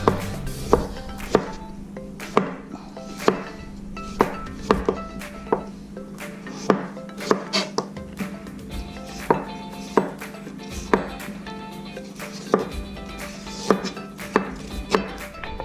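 A knife works steadily on ginger at a board while preparing teriyaki chicken, a close series of crisp, regular knocks and cuts repeating every half second or so with no one talking.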